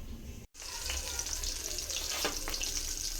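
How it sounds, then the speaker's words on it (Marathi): Spice-coated paneer cubes frying in a pan for a crispy Maharashtrian starter, giving a steady close sizzle throughout with a brief dropout near the start. "आता आपण यांना फ्राय करणार आहोत"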